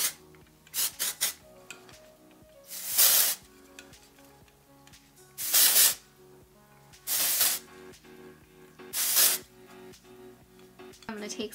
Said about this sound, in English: I'm just gonna apply some texturizing spray